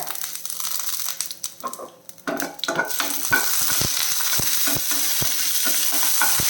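Dried red chilies, curry leaves and cumin frying in oil in a pan, a soft hiss and crackle with a few stirring scrapes, then steady sizzling with sharp intermittent pops.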